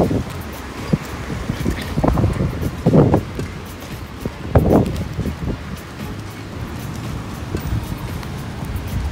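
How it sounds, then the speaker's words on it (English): Wind buffeting a handheld microphone outdoors, with gusty low rumbles and bursts of rustling across the whole stretch, fairly loud and uneven. "It's a little windy."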